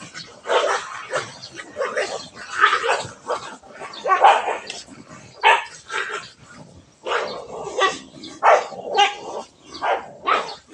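Pet dogs bark, yip and snarl in a rapid, overlapping scuffle, a near and fairly loud burst of fighting that keeps going throughout.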